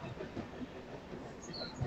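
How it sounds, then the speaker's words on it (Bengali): A Kharagpur–Asansol MEMU express train pulls out of Chhatna station, its steady rolling rumble heard from inside the carriage with faint clacking and a brief high squeal near the end. "আমাদের ট্রেন এখন ছাতনা স্টেশন ছেড়ে বেরিয়ে গেল"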